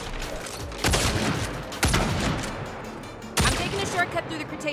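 Shotgun blasts in the Saints Row reboot video game, three loud booming shots spaced about a second apart with a noisy action soundscape between them.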